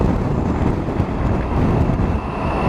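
Steady loud wind buffeting a helmet microphone while riding a Triumph Tiger 1050 Sport motorcycle on a road trip in Scotland, a constant broadband roar with no talk.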